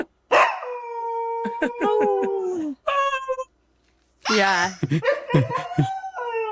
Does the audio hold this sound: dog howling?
yes